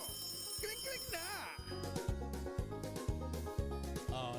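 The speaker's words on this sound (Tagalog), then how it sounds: "Kring Kring Panalo Malakas sa telepono." A DZRH radio call-in contest jingle plays telephone-style ringing over a bouncy musical beat, with pulsing rings repeating in a steady rhythm and sung or spoken vocal snippets woven through the music.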